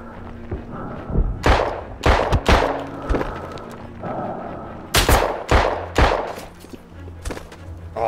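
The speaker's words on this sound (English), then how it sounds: "l'artiglieria sta sparando su queste coordinate!" Heavy thuds of artillery and sharp gunfire crack through a World War 1 battle on the Italian front in a video game, close and loud bursts spread irregularly over the scene.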